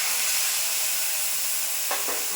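Frying potatoes and pointed gourd hiss and sizzle steadily in hot oil as ground ginger is added, a loud, dense crackle throughout, with a brief scrape of stirring near the end.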